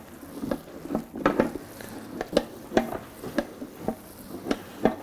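Ground meat and fat for German bratwurst being mixed by hand, a regular series of wet squishing, slapping pulses about twice a second, close up and unaccompanied by talk.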